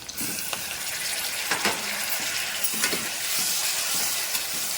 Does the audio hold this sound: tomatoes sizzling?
yes